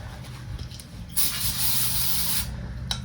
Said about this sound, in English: I like brake clean, and that cleans it up nice